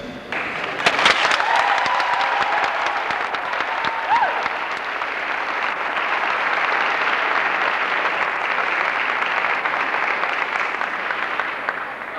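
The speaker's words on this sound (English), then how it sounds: "Bernice certainly deserves all this applause" Crowd at the Amherst 1989 graduation ceremony breaking into sustained applause, a few sharp claps at first swelling into a broad, steady roar of clapping that holds loud and even to the end.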